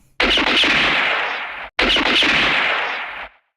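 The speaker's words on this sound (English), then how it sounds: "here's a gun from For a Few Dollars More" Two loud, crackling gunshot effects from the spaghetti western film For a Few Dollars More, each a sharp blast followed by a long ringing decay, heard back to back with nothing else.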